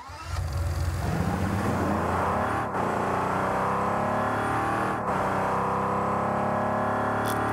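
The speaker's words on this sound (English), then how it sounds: "let's hear how this car sounds, the engine noise" A car engine in the Rocket League video game hums steadily, a loud continuous motor drone with shifting pitch and no talking over it.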